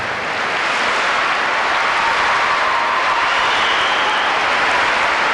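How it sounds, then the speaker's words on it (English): A large crowd in a gymnastics arena at the 1995 European Cup men's all-around final applauds loudly, a dense, continuous roar of clapping that holds steady for several seconds with no voices standing out. "good to see the crowd in full appreciation of this youngster"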